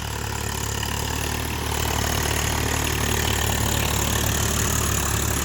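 A Swaraj 744 FE 4WD tractor engine runs at a steady mid-range idle, with a constant low throb and knock that grows slightly louder partway through, close by, with no one talking.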